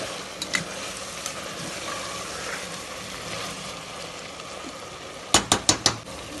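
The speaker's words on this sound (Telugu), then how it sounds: "కలుపుకుందాం, బాగా కలుపుకోవాలి." Chicken biryani, Karnataka style, is stirred in a pot over a soft, continuous sizzle with light scraping, ending in four sharp metallic clinks of the spoon against the rim.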